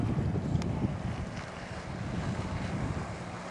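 Gusty wind buffets the microphone at an outdoor water ski event, a steady low roar with rumbling gusts and faint water wash, no voices.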